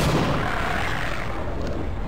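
A frag grenade going off in a video game, a loud broad blast that rolls on as a dense rumbling roar for about two seconds, heard on its own without talk.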